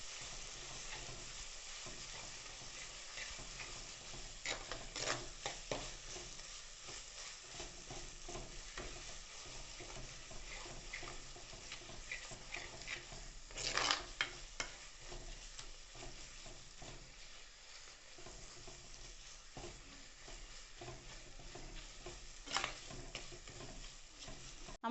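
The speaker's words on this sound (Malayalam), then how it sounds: "ഇതൊന്നും നമുക്കിനി ഈ വെളിച്ചെണ്ണയിലിട്ട് ഒന്ന് വാട്ടിയെടുക്കാം." Ground spice paste with turmeric sautéing in coconut oil for a Kerala-style mackerel curry, a continuous quiet frying hiss broken by occasional scraping stirs, close and low in level, no voices.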